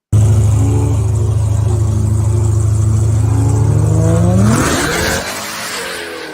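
Race car engine idling loud and steady at a drag-style race start, then revving up sharply and roaring away with rising pitch before fading slightly.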